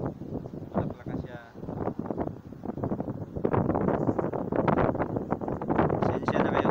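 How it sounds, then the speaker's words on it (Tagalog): Gusty wind buffets and rumbles against the microphone in a vegetable garden near a rocky mountain in the UAE while someone talks throughout. "Medyo mahangin dito ngayon."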